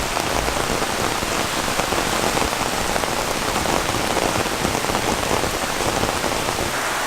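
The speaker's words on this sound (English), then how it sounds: "sadly it's absolutely pouring rain right now" Heavy rain pours down steadily and loudly in a jungle, a dense continuous hiss of drops hitting leaves and ground with no pauses.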